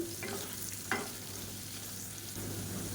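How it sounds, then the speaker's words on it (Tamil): Potato pieces roasting in a hot pan sizzle steadily, with a couple of brief scraping stirs breaking through the continuous frying hiss, close and fairly loud with no talking. "இது வந்து கொஞ்சம் நல்லா ரோஸ்ட் ஆகட்டும் உருளைக்கிழங்கு."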